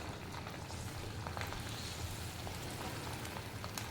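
Snacks frying in hot oil in a deep pan for an evening treat: a steady, dense crackling sizzle with scattered sharper pops, continuous and fairly close, with no talk over it.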